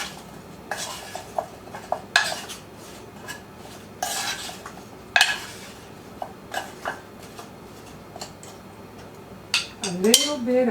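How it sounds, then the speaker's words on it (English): Two spoons clatter against a pot as seasoned food is tossed in an easy one-pot meal, giving irregular metallic clinks and scrapes, close and fairly loud, with a soft background hum throughout. "Then I'll get me a couple of spoons here to toss it with."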